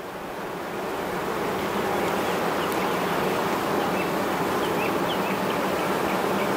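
Honey bees hum at an open beehive during an inspection, a dense, steady buzz of many insects close by with some wind-like rush mixed in, no voices.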